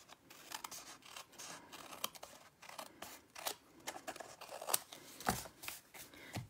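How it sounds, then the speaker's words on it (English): Scissors trim sheets of patterned designer paper for a starburst card, giving soft repeated snipping and rustling cuts at close range, fairly quiet throughout. "Now I'm going to go ahead and trim these."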